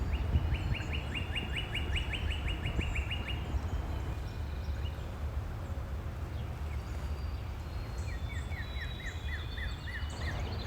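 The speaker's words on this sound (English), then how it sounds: "Hear that beautiful sounds of the birds here." Birds sing in a US forest beside a stream, with rapid repeated trills and chirps at moderate distance over a steady low rumble of flowing water or wind.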